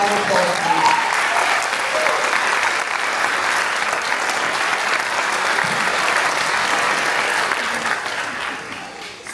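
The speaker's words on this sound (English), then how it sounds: "Please give everyone a round of applause, please" An audience gives a long, loud round of applause for graduating recruits of a youth police academy, dense clapping filling the hall and slowly easing toward the end, with faint voices underneath.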